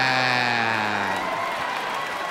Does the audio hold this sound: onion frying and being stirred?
no